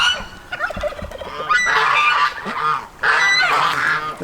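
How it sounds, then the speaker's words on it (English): Geese honk loudly in their pen, close up, several overlapping harsh calls in repeated bursts with short gaps between them and no talking. "But there are the geese in their own pen."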